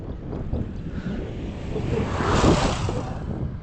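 Sea waves wash along a beach coastline under steady wind noise, a continuous surf roar that swells slightly midway.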